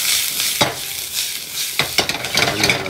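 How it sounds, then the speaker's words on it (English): Garlic sautéing in a pan for vegan fried rice gives a steady broadband sizzle, with a few sharp stirring scrapes and clicks breaking through near the end. "And then a garlic saute."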